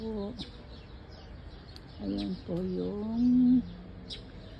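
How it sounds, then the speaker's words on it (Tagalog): Several birds sing and chirp in backyard trees nearby, with whistled tonal calls and short bright tweets in bursts, some louder phrases near the end. "Hindi na natin kailangan magpa-music kasi yung ibon nagkakantahan na sila"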